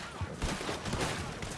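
Gunfire in Red Dead Redemption 2, a dense burst of rapid overlapping shots rattling continuously, muffled and somewhat distant rather than crisp.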